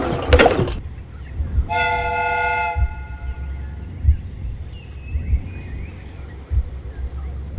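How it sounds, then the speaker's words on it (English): Steam whistle on a replica train, in a Sherlock Holmes game, gives one short clear shrill blast of about a second, following a sharp hiss of released pressure, before a low rumble and periodic thuds continue. "The steam whistle is ready to be used."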